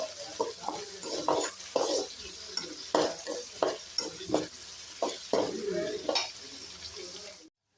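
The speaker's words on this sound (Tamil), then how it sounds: "நல்லா வெங்காயத்தை வதக்கிக்கலாம்." Onions and curry leaves sauté in a pan for a cowpea curry, a bright sizzle under repeated spoon scrapes and clatters in an irregular rhythm, ending abruptly in silence.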